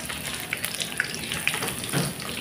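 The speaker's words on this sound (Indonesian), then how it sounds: "Tinggal kita goreng seperti ini." Corn ribs frying in hot oil over a low to medium flame give a steady, close sizzle with scattered small pops and crackles, and no voices.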